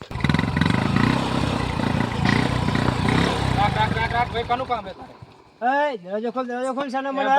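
A motorcycle engine sputters and runs with a low throbbing rumble for a few seconds, then fades as a person starts talking.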